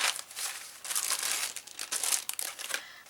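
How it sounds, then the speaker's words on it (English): Craft papers and junk-journal materials crinkle and rustle continuously in a pile as someone rummages through them, close and fairly loud, in irregular bursts of crumpling with no voices. "Sorry for all the rustling, but I'm trying to find it."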